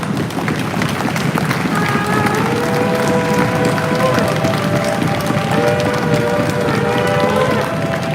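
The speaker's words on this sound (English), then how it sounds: "Just give yourself a round of applause" Steady crowd applause at a gathering, dense clapping throughout with voices and some speech-like tones running over it.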